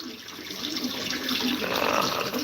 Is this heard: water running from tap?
yes